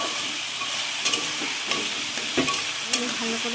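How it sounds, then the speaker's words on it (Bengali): Cauliflower, carrot, potato, tomato, green chilli and peas frying in a pan for veg chow, a steady crackling sizzle with a few sharper pops and stirring clatters close by. "এখানে আছে ফুলকপি, গাজর, টমেটো, কাঁচা লঙ্কা, মটরশুঁটি, আলু, এগুলো একটু ভেজে নেব।"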